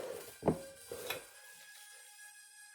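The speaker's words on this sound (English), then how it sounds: "I'm going to put it on the presser" A tortilla press closing on a dough ball wrapped in plastic, heard as two soft, close thumps in quick succession, followed by quiet.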